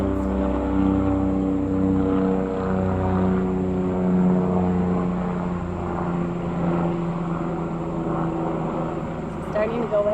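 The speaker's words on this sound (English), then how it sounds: "it's another helicopter" A helicopter flying overhead outside a home, heard as a steady, loud droning rumble with a low throbbing hum that holds throughout and eases slightly toward the end.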